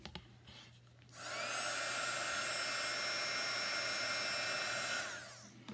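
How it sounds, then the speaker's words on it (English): A handheld heat dryer used on a chalk craft piece switches on, whines loudly and steadily for about four seconds, then cuts off and spins down. "And then I'm going to just touch these with my dryer."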